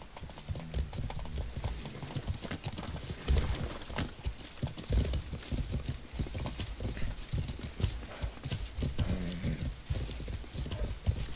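Horse hooves clip-clop in a steady walking rhythm in a medieval battle video game, against a busy, noisy background, with occasional louder thuds and a faint whinny.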